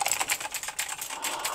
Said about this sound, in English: A Razer Black Widow mechanical keyboard.